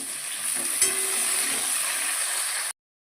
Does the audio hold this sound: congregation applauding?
no